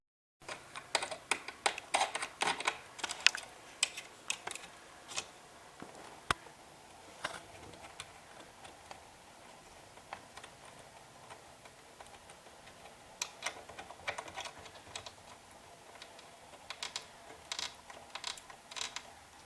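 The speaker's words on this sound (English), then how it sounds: "I have this century-old PS2 keyboard that, very conveniently, can be used to type on this" Clicky keystrokes from an old PS2 computer keyboard patter in uneven bursts, close and fairly quiet, with short pauses between runs of typing and no voices.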